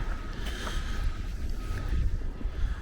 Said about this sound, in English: You'll hear the wind in your ears.